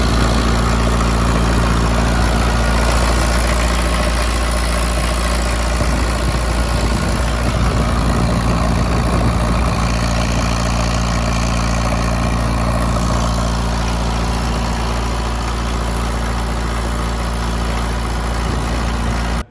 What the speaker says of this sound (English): Bought it as a running unit, and actually the engine runs surprisingly well